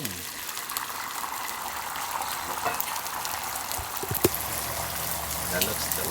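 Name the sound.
oil poured into pan, frying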